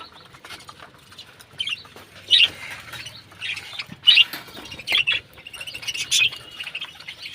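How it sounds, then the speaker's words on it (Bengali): A colony of birds feeds in the morning, giving repeated loud squawks and chirps in irregular bursts, with soft rustling and pattering between the calls. "আমাদের কলোনির পাখিগুলো এরা সকালবেলা খাবার খাচ্ছে"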